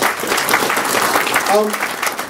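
A crowd at a Senate forum applauds, producing a steady wash of clapping with a brief tonal sound cutting through midway.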